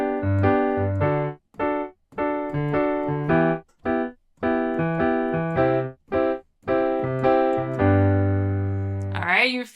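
Piano plays a pop rock rhythm pattern with a swing feel, bass notes and chords in a bouncing repeated groove with short breaks, ending on a held chord, loud and close with no talking.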